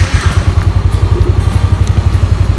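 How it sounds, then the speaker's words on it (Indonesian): A Yamaha NMAX scooter engine runs close by at a loud steady idle, its fast even thumping pulse continuing throughout with no voices. "kita hidupkan dulu mesinnya."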